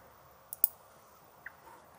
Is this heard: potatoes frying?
no